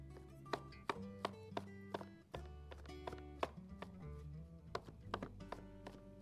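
Knife chopping mushrooms on a cutting board for a pasta dish, a run of sharp, fairly close taps and thunks at an irregular pace, heard over soft background music.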